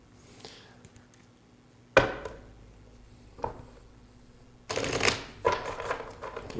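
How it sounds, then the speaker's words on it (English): Tarot cards riffled and shuffled close by, a few sharp bursts separated by brief pauses, ending in a longer, busier shuffle. "Actually, we'll do two big shuffles here."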